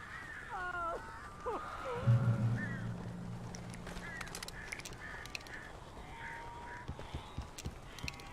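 Crows caw in the Alan Wake video game, a few harsh calls over a low rumbling drone, then scattered fainter caws and clatter as the sound thins out.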